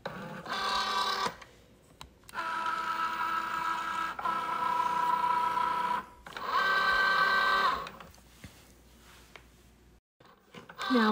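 A Cricut Joy cutting machine drives a pen across a card, making whirring motor bursts with tonal whines and buzzes separated by short pauses as the carriage moves back and forth, close and moderately loud, with no talking.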